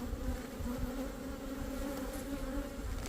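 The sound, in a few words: bees flying around during beehive inspection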